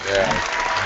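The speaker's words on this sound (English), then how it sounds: "Round of applause, Bill." A studio audience breaks into a short burst of clapping, dense and loud over a brief moment, with voices mixed in.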